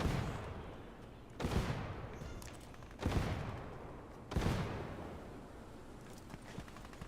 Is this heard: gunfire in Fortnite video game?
yes